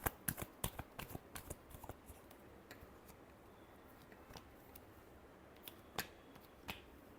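Tarot cards are shuffled by hand in a rapid series of crisp, snapping card clicks, dense at first and then sparser, close but quiet with no speech.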